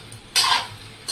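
Swamp eel frying in a pan, stirred with a utensil: a single short scraping clatter of metal against the pan, close, followed by a faint brief scrape, over a quiet background.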